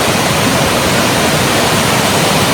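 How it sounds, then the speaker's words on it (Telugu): A powerful waterfall swollen by recent rain, heavy water flow roaring as a dense, constant wash of noise, close and loud with no break. "క్రేజీ వాటర్ ఫాల్ ఉంది"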